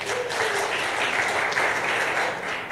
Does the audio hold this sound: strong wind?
no